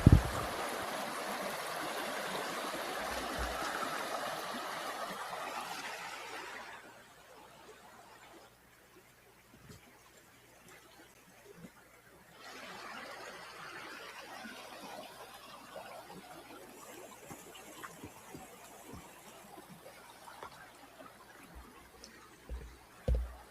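Hatchet Creek in central Alabama flows over weird rocks in a steady, fairly close rush of water that drops to a quieter trickle midway and then swells again, with no voices.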